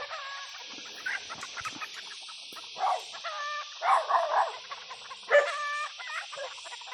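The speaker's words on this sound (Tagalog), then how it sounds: "Ingay nitong asong ito." A noisy dog barks in irregular bursts, several sharp barks fairly close, over a constant hiss with other animal calls mixed in.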